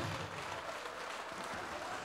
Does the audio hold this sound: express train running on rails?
no